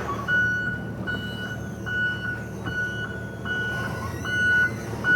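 Forklift moving a used car wash equipment trailer, sounding a steady series of evenly spaced reversing beeps over a low engine rumble, moderately loud and outdoors.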